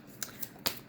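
Tarot cards being shuffled by hand, three quick crisp riffling bursts close to the microphone within a second, no talk.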